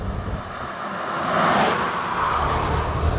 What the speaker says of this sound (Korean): 끝까지 밟은 상태에서 RPM이 향상되면서 차가 나가는 느낌